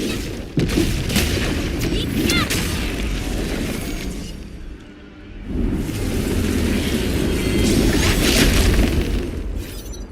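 Anchor blown apart in Arknights: Endfield, a loud booming explosion with crackling debris that fades, then a second rumbling blast swells and lingers as continuous roaring noise.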